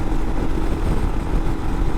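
A motorcycle engine drones steadily at highway speed of around 75 to 78 mph, a loud, continuous mid-pitched roar mixed with wind rush and no talking.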